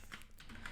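Text is typed into a file on a computer keyboard: a quick, faint patter of a few keystrokes, close by, lasting under a second with no voices.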